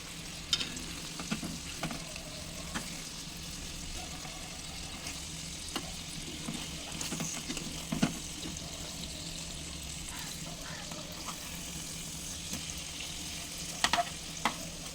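Stuffed brinjals fry in a heavy pan for a gutti vankaya curry, giving a steady close sizzle throughout, with occasional clicks and scrapes as the pieces are turned one by one.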